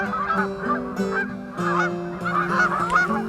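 A flock of migrating geese flying south in V formation, loud overlapping honks repeating in irregular bursts close by, with no talking.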